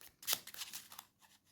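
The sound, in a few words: shuffling slippery tarot cards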